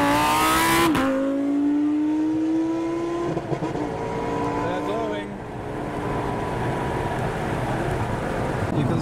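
A Lamborghini Huracan engine with a standard exhaust idles loudly and steadily nearby at night, with a rising rev early on settling into a deep, rumbling burble.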